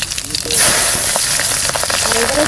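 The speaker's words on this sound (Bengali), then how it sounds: "সর্ষের তেল দিচ্ছি এখানে কালো জিরে কটা কাঁচা লঙ্কা" Nigella seeds and green chillies hit hot mustard oil with a sudden loud hiss, then settle into a close, steady sizzle with faint crackles.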